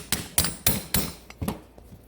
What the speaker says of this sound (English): So generally you take your little ball peen, give these things a little whack.